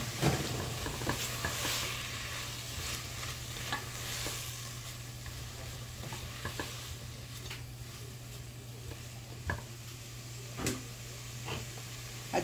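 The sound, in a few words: meat frying in pan with garlic and onion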